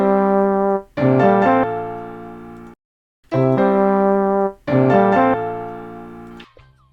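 The Zelda Tears of the Kingdom theme layered with the Dark World theme sounds as sustained, richly harmonic melodic notes in two phrases separated by a short silence, loud and clear with no talking.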